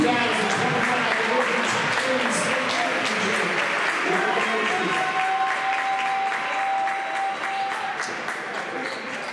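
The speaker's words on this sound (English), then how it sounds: "I got a nice round of applause for the" A crowd applauds at a high school varsity football state championship banner ceremony, sustained and dense, with a crowd murmuring beneath the clapping from start to finish.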